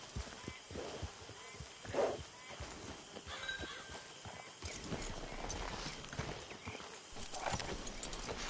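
A horse whinnies and hooves clip-clop on the ground in the video game Red Dead Redemption 2, with footsteps and ambient game sounds around, moderately near.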